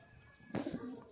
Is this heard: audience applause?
no